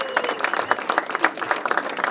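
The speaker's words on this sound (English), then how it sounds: "So give yourself a round of applause." Audience applause at a VIP event for the Bradenton Area River Regatta, a steady wash of many hands clapping close and fairly loud, with crisp individual claps standing out throughout.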